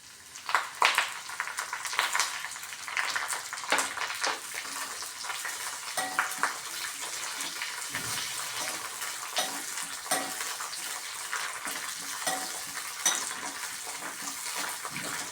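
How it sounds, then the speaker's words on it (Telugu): Fresh curry leaves fry in a generous amount of oil in a pan, a steady faint sizzle and crackle joined by occasional stirring scrapes throughout, with no talk. "కరివేపాకు కొంచెం ఎక్కువ ఆయిల్ వేసి వేయిస్తున్నానండి."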